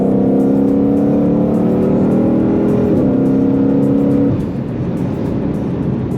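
Ford Mustang Shelby GT500 engine revving up close, a loud rising growl that climbs in pitch, then drops sharply and settles into a lower rumble, with no talking.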